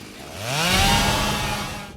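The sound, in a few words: chainsaw in Evil Dead film scene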